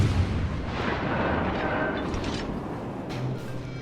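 Main guns of the Japanese Tier 7 cruiser Suzuya fire in World of Warships Legends: a continuous, dense battle rumble of booming salvos and distant explosions, steady and fairly loud throughout with no speech.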